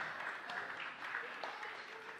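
A gala audience claps in a steady, fairly faint round of applause with a voice faintly mixed in.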